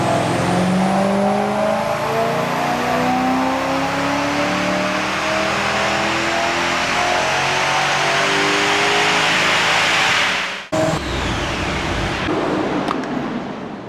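Holden V8 fitted with an ST camshaft and CNC heads screaming on a dyno, a loud sustained rev climbing steadily in pitch for about ten seconds before cutting off abruptly, then brief lower running.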